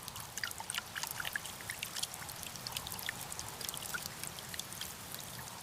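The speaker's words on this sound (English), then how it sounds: "The seam down the pitcher hides a small hole that drains water into a flat" Water drains through a small hidden hole in a carnivorous pitcher plant's seam, a steady, close trickle with fine dripping and bubbling detail and no voices.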